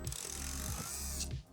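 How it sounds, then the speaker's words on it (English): A ratchet wrench turning in a studio build space, a close mechanical clicking whir that runs for about a second and a half before stopping. "I don't have a socket set, so I have to do this into a ratchet"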